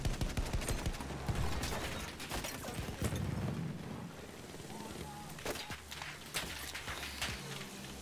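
Infantry gunfire in the Battlefield 1 video game: a dense run of sharp rifle and machine-gun cracks, some close and loud, others farther off, over a busy battlefield rumble with occasional footsteps.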